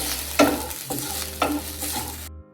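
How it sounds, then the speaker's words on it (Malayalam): Vegetables sauté in coconut oil in a pan, giving a close, steady sizzle broken by a few stirring scrapes before the sound cuts off abruptly. "എന്നിട്ട് ഇതുപോലെ വെളിച്ചെണ്ണയിലിട്ടിട്ടൊന്ന് വാട്ടും."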